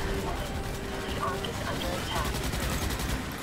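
Dense continuous gunfire shooting bugs in Starship Troopers: Extermination, rapid automatic bursts layered with game noise, loud and unbroken throughout.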